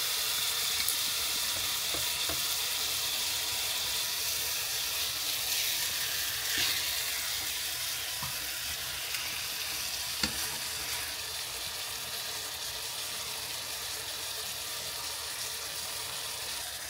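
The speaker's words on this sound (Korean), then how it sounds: "국물도 좀 넣고 지글지글 구워줘" Steady, close sizzling of marinated beef short ribs frying in a hot pan, a continuous crackling hiss with occasional small pops and no talking.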